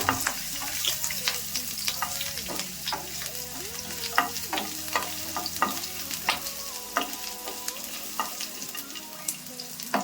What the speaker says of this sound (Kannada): ಒಂದ್ ಸ್ವಲ್ಪ ಬೆಳ್ಳುಳ್ಳಿ ಹಾಕೊಂತ ಇದ್ದೀನಿ ಸ್ವಲ್ಪ ಶುಂಠಿ ಇನ್ನೊಂಚೂರು ಫ್ರೈ ಮಾಡ್ಕೋಬೇಕು